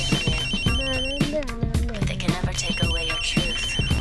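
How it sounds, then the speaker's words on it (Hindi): A mobile phone ringtone rings with steady, repeating high tones over a louder, music-like melodic background that runs through the whole stretch. "तुम्हारा मोबाइल फोन बज रहा है"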